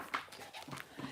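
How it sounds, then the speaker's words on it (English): A puppy whimpers faintly in soft, breathy, high-pitched whines and pants, several short uneven bursts over a muffled background. "There's the goofy puppy."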